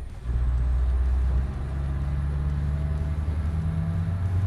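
Engine of a badly damaged truck in European Truck Simulator, running as a loud, steady low drone that drops in pitch partway through as it shifts, with a faint high whine above it and no talking.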